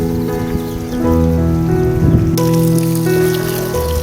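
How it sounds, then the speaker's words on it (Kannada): Water from a farm irrigation pipe spatters and patters like rain, with steady droplet noise under a constant low engine-like hum, close and loud throughout. "ನೋಡಿ, ನೀರು ಬಂತು"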